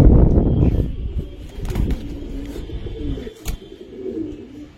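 Giribaz pigeons coo in close, throaty rolling bursts that rise and fall over a few seconds, with a brief rustle at the start and a sharp knock partway through.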